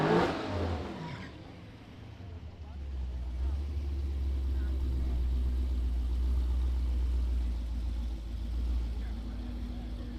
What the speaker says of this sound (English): Elijah Moore is going to start his burnout of the Mark 5 Supra in the right lane.